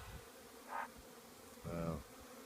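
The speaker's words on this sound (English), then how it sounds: "Okay, I agree, they're not bunnies, they're bees." Bees buzz in two short passes close by, a faint hum rising and fading against quiet background noise.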